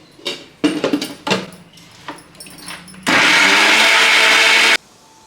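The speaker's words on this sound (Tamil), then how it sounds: "இதை வந்து அரைச்சி எடுத்துக்கோங்க" A mixer grinder blitzes lunch ingredients: a few clattering knocks and handling noises, then a loud, steady high-pitched whir that runs for nearly two seconds before cutting off abruptly.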